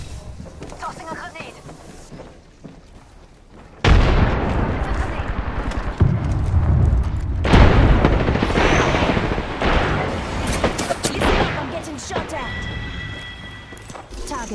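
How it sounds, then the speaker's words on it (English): A grenade goes off in Apex Legends with a loud, sudden boom, followed by further heavy blasts and gunfire during a chaotic firefight, with voices talking over the action. "Tossing a grenade."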